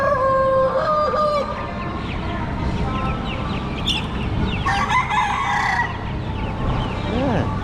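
Chickens at a bird farm in Udon Thani, including fluffy show hens, cluck and chatter nearby while a rooster lets out a loud, drawn-out crow, with more clucks and calls overlapping throughout.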